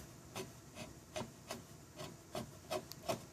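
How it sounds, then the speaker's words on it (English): Soft, steady sanding on a carved wooden sign: around eight evenly spaced rasping strokes, each a brief scratchy swish over a faint background hiss, quiet and close with no voices. "sand the surface before getting ready to put a coat on"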